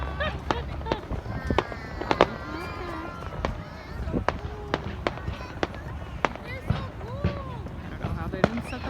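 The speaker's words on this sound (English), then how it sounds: "This is the pandemic version of fireworks" July 4th fireworks go off in a long series of sharp pops and cracks at irregular intervals, some near and some farther off, with a person talking between them.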